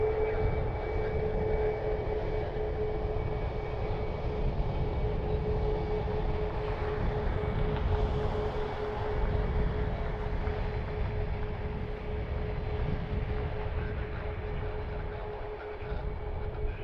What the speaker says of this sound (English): They are taxiing quickly heading over here.